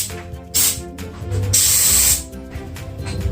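A can of seal spray sprays sealant onto a leak from about 20 centimeters away, two loud hissing bursts, one short and one sustained, over steady background noise.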